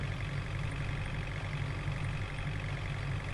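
A bus in Bus Simulator Ultimate accelerates along an empty early-morning road, its engine a steady, loud low drone with constant rumble and no breaks.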